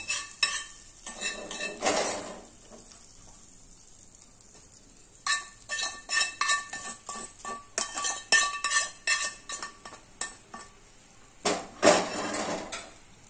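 Metal utensil mixing food in a dish, with repeated clinks, scrapes and stirring against the sides in irregular bursts, close and moderately loud, with quiet gaps between.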